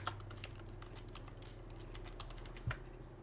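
Fingers typing captcha text on a computer keyboard, a quiet, steady run of close key clicks with one louder tap near the end.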